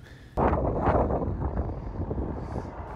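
Heavy wind in the Norwegian mountains, blowing straight into a cyclist's face, buffets the microphone with loud, rumbling low-frequency gusts that start suddenly and continue steadily.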